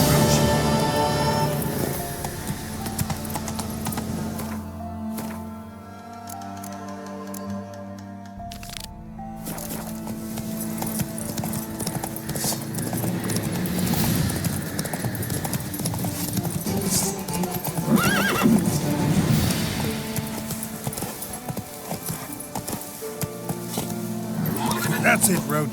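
Hooves of Roach, a horse in The Witcher 3: Wild Hunt, clip-clop at a steady galloping rhythm amid loud game music and ambience, with a brief quieter stretch partway through and a voice speaking over the action.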